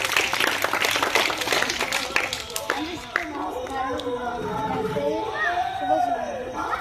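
Children clap in a burst at a village Independence Day function, the applause strongest early and then thinning out as an adult voice speaks over the crowd noise.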